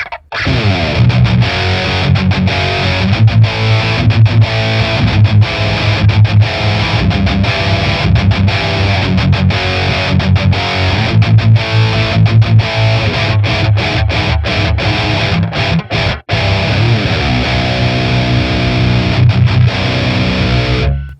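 High-gain distorted electric guitar played through a ToneX ONE amp model, a continuous heavy riff with tight palm-muted chugs and chords running for the whole stretch, loud and close, with no talk.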